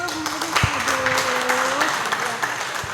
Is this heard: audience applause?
yes